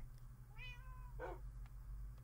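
A cat in modded Minecraft gives a single clear rising-falling meow, followed by a brief rougher sound, over a steady low background hum.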